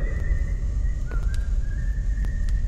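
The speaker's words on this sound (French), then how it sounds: "C'est qui siffle?" A character whistling in the VR horror game Forewarned, a thin sustained whistle gliding over a steady low rumble of game ambience, moderately loud with a few brief higher chirps.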